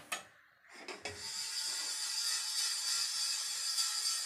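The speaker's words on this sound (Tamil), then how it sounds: "3/4 ஸ்பூன் அளவுக்கு வெந்தயம், அதையும் நம்ம இதில் போட்டு நல்லா வறுத்துக்கலாம்." Fenugreek seeds being dry-roasted and stirred in a hot pan: a steady, close rustling scrape with faint clinks against the metal, continuous after a brief start, no talk.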